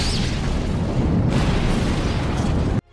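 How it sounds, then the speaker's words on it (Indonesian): A big explosion aboard the train in the film Snowpiercer, a loud sustained roaring blast with rumbling debris that cuts off abruptly after nearly three seconds. "ke arah Yuna yang sedang menggendong Timmy, memeluk untuk menyelamatkan dua anak ini dari ledakan besar."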